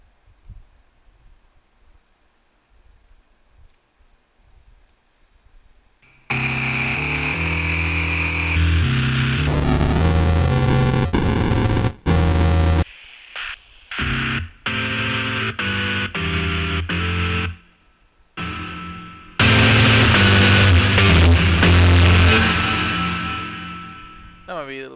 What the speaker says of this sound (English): That might be a little too much distortion